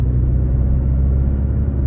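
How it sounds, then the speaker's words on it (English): A 2022 Porsche 718 Cayman T cruising on the road, a constant deep engine and road rumble heard from the cabin, fairly loud and even, with no voices. "So starting the test drive in this 718 T"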